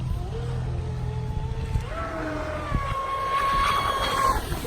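A 6S electric RC speedboat whines across the water, its motor pitch climbing sharply as it accelerates, loud and close with a buzzing high tone.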